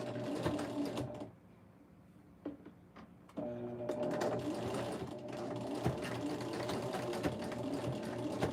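Sewing machine running in steady bursts while stitching around fabric edges to stop fraying, motor whir starting and stopping with short pauses, close and fairly loud, no talking.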